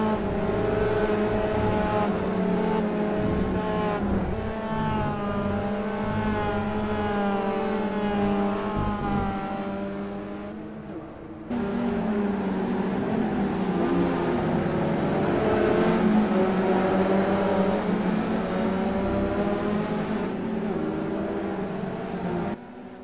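Several Mazda MX-5 Cup race cars in the iRacing sim roar around the track. Engines wail and shift pitch as they accelerate, with a brief dip and a cut midway before the continuous drone resumes.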